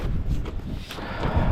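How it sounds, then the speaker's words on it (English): Steady gusts of wind buffet the microphone outdoors during vinyl siding installation, a continuous low rumbling roar with slight surges, and no one speaks. "It's a little windy out today"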